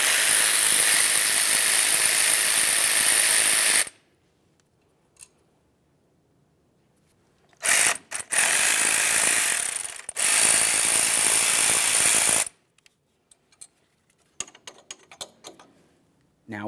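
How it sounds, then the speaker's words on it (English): A ratchet wrench with a 10 mm socket backs out brake hose bracket bolts on a car's front suspension, giving long bursts of loud rapid clicking separated by quiet pauses, then a few scattered taps. "Use a 10 millimeter to remove both of the bolts."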